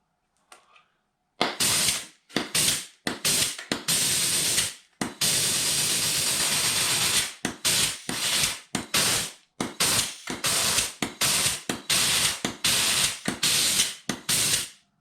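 A grease gun pumps grease into the clutch of a John Deere 830 tractor in a series of short, sharp hissing spurts and clicks, some quick and some longer, close up with no talking.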